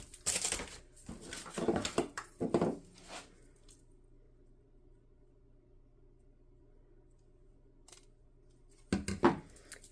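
Scissors cut paper in a few close, crisp snips early on, then a long quiet stretch, and one more short burst of cutting near the end.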